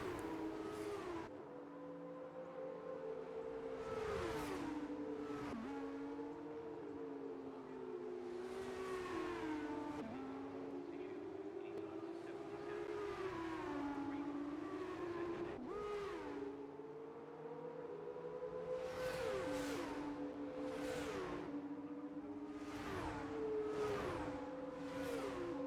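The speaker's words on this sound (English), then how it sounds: "listen to those lovely F2 cars roaring in" Formula 2 race cars roaring past on track, high-pitched engines rising and falling in pitch with repeated passes and upshifts, some near and loud, others more distant.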